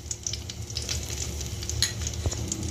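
Cumin powder sizzles in hot ghee in a pan for dhaba-style egg korma, a steady close crackle with soft stirring scrapes and a brief clink near the end, no voices.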